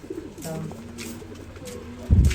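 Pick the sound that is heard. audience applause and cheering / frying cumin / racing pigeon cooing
racing pigeon cooing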